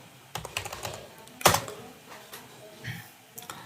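Rapid clicking keystrokes on a computer keyboard, close and continuous with one sharper key strike midway and a few scattered taps near the end.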